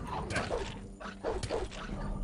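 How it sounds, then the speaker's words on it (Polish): Dingo dogs in the video game Gothic, giving a quick run of close, fairly loud barks and yips that come in short bursts, with no voices over them. "Jest dingo."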